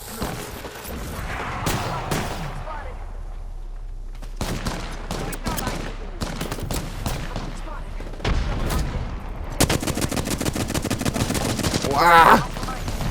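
Rapid gunfire in the battle royale game Apex Legends: dense volleys of automatic shots and single cracks, loud and close, coming in bursts throughout, with a player talking over the shooting.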